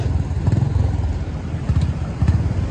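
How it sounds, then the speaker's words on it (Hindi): A Honda CB350RS motorcycle being ridden gives a low, thumping engine beat that rises and falls in short pulses under road and wind noise, moderately close. "चाचू इज ड्राइविंग द बाइक"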